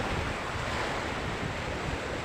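Sea waves and strong wind during a coastal fishing tournament on a rough sea make a continuous, loud wash of surf with heavy wind buffeting the microphone and no talk.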